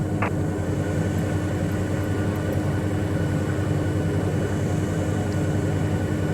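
A small propeller airplane's engine drones steadily in Microsoft Flight Simulator 2020 as the throttle is pulled back on approach, a constant loud hum with no talking.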